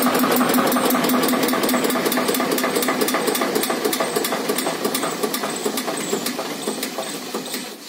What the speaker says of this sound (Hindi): ट्रैक्टर स्टार्ट हो गया है, एकदम बहुत ही बेहतरीन आवाज है ट्रैक्टर की